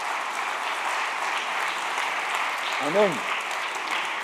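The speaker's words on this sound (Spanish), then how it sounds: "Aplaudimos al Señor." A church congregation applauding: steady, continuous clapping from many hands filling the room, with a single voice calling out briefly near the end.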